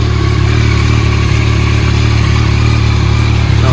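A 2021 Yamaha MT-09 motorcycle engine runs steadily at idle, loud and close with an even low throb and no revving.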